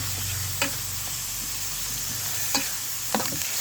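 Goat fat frying in a pan with turmeric, chili and coriander powders, a steady close sizzle with a few sharp clinks of stirring scattered through, no talking.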